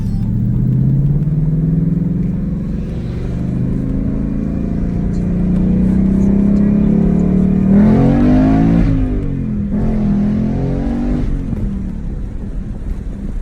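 A GT Mustang with Performance Pack 2 accelerates on a test drive, its engine note climbing steadily in a loud, close rumble, then dropping and surging again through two quick gear changes.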